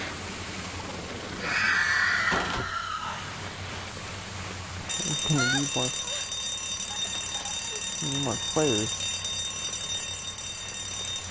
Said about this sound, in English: Why are these alarms going off?